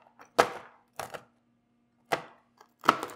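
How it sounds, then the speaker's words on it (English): A knife roughly chops almonds on a cutting board, four distinct, close, crisp thunks with uneven pauses between them and no talking. "To start, I'm just gonna roughly chop these almonds."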